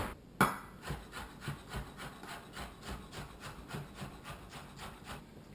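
A knife chops peeled garlic on a board for couscous, with one sharp first strike followed by a steady run of rapid, even taps, close and fairly quiet, with no talk.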